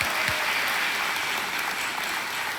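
A studio audience on a televised quiz show breaks into steady, sustained applause that is moderately loud and continuous throughout.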